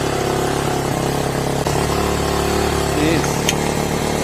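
A Hawk-X 250 motorcycle engine runs steadily at half choke with a slightly raised throttle, a continuous mid-pitched drone close by with a small rev swell near the end, while a person talks over it.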